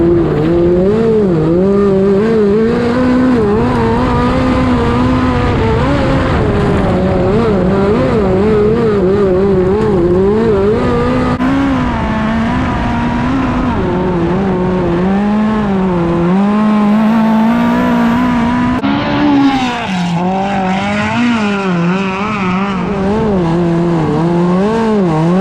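A dirt race car laps a speedway oval, its engine roaring loud and continuous with pitch rising and falling through the turns and straights, occasional tire scrub under the drone.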